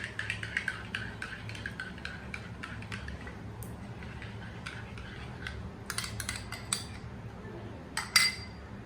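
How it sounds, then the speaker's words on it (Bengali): A fork rattles quickly against a bowl as two eggs are beaten with salt, a faint run of light clinks that grows busier with a few sharper strikes toward the end. "আমি এখন এখানে 2টি ডিম ফেটে রাখছি লবণ দিয়ে"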